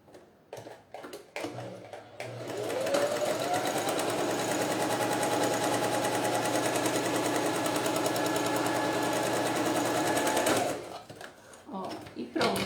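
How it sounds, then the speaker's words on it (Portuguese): Sewing machine stitching a double wallet made of synthetic leather, running steadily and loudly for about eight seconds after brief handling noises, then stopping, with someone speaking before and after. "E eu vou costurar essa parte aqui agora"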